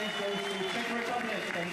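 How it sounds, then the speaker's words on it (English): Spectators cheer and clap at a cyclo-cross World Cup podium ceremony in Tabor, Czech Republic, a steady broadband crowd roar with scattered voices and whistles, moderately distant and continuous throughout. "Now listen to the crowd here."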